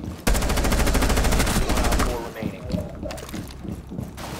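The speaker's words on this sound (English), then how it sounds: "Shotgun." Loud gunfire from the video game Rainbow Six Siege, a dense rapid burst in the first two seconds followed by scattered shots, with players talking over the action.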